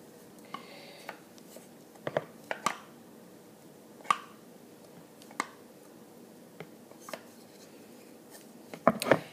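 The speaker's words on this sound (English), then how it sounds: "you can just get your wooden spoon or whatever you chose to mix with and just kind of scoop it in" Wooden spoon scooping a thick Jell-O soap mixture, giving soft, sparse squishy plops and scrapes spaced irregularly, close and fairly quiet against a low background.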